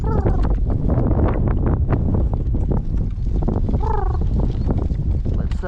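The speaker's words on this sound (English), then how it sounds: "We have high wind today." Gale-force wind in a storm roars and buffets the microphone in a loud, constant rumble, while voices talk over it throughout.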